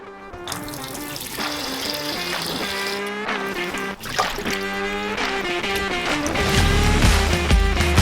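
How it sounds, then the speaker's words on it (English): Tap water runs steadily over garden vegetables being washed in a sink, a continuous close splashing stream that grows fuller toward the end, with no talking. "Begin by washing everything."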